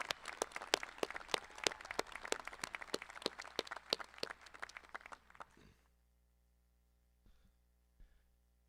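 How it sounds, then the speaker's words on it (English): Sparse, distinct hand claps from a small group at a high school commencement ceremony, crisp and fairly close, dwindling and stopping about two-thirds of the way through, leaving quiet room tone with a few stray taps. "I ask one more round of applause for former Marine Sergeant Greg Skavinsky"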